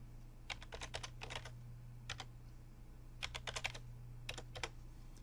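Zip codes are typed on a computer keyboard, producing quick clusters of close, crisp keystrokes separated by short pauses over a faint background hum.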